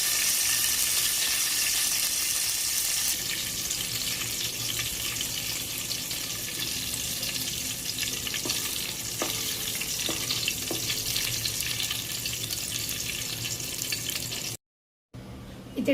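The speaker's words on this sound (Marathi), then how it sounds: "थोडंसं तूप ॲड केलं आहे आणि त्यामध्ये ड्रायफ्रूट्स थोडेसे भाजून घेते" Dry fruits roasting in ghee in a pan for lapshi prasad, a continuous soft frying sizzle with occasional faint stirring clicks, steady and close, ending in a brief cut to silence.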